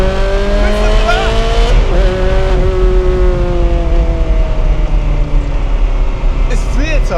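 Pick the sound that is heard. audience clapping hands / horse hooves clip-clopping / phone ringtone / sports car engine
sports car engine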